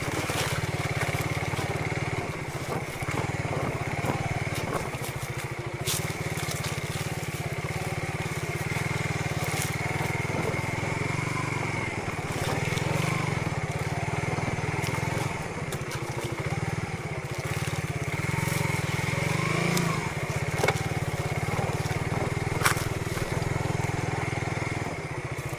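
A motorcycle engine drones steadily and close as the bike rides over rough ground with no road, its constant buzz broken by occasional knocks and rattles.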